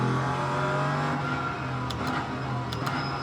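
A race car in a racing simulator video game drones steadily under light throttle, a constant engine tone with faint tyre noise and a few brief clicks, no voices.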